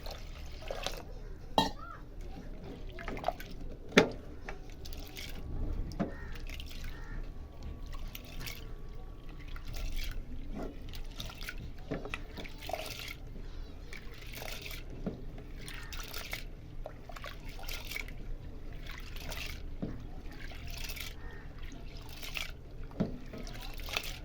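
Second rinse water poured and dribbled while making a homemade skin cream, with soft intermittent trickles and drips, faint and close, with occasional light knocks and talk.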